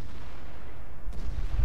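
A heavy tank cannon blast in a video game booms with a deep, sustained low rumble that rolls on and fades into lingering thuds.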